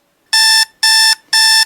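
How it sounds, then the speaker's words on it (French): An alarm clock rings in three loud, evenly spaced electronic beeps, each a bright, buzzy tone lasting about a third of a second, with short silent gaps between them and no voices. "mon réveil me sonne que c'est l'heure de la fin de cette vidéo"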